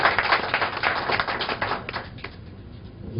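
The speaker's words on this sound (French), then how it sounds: "applaudissez Cissé" An audience claps at a political meeting of the RDR in Philadelphia, a dense burst of hand claps that thins out and fades after about two seconds.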